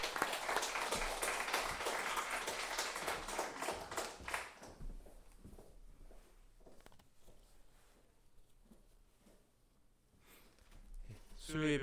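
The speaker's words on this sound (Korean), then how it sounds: "따뜻한 박수로 모시겠습니다." A Korean church congregation at a Wednesday worship service claps warmly to welcome the pastor, a dense burst of applause for about four seconds that then thins to scattered taps beneath someone speaking.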